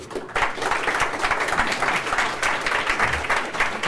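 An audience at a conference claps to welcome a keynote speaker, a steady, dense wash of applause from a full room that holds even throughout, with no voices above it.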